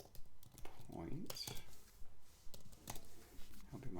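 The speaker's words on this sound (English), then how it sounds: "Hoping my typing was on song." Computer keyboard typing during a cryptic crossword speed solve: clusters of quick light clicks and taps in an irregular rhythm, close and fairly faint.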